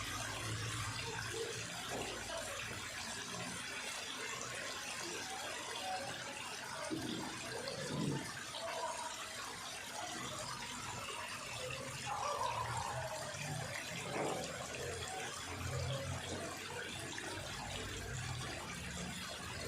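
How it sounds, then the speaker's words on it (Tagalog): Clear spring water runs and drains steadily from a basin at close range, a continuous rushing wash with a few gurgling swells, no talk heard. "Sa dami ng tubig, ang tagal din maubos."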